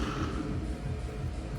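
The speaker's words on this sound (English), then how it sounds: "bearing does not sound right." A worn bearing for a Tesla Model 3 differential spins with a steady low mechanical whir and a faint rough, grinding undertone, continuous and close, with no voices.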